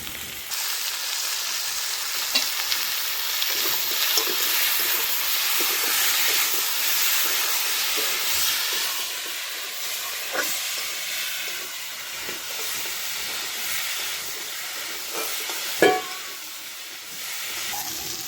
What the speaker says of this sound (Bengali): এখানে আছে লঙ্কা বাটা, আদা বাটা, জিরে বাটা, একসঙ্গে দিয়ে ভেজে নিচ্ছি।